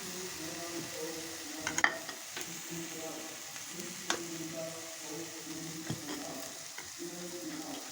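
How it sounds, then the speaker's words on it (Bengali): Polao rice stirred and fried in a pan with already-fried carrot and cabbage, a steady close sizzle with scraping stirs and a few sharper clinks of the spoon against the pot. "এখন আমি পোলাও চালটা দিয়ে একটু ভেজে নেব।"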